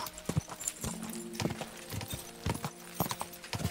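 Horse hooves clip-clop steadily in the video game Kingdom Come Deliverance 2, a moderately close, regular walking rhythm of soft thuds against faint ambient background.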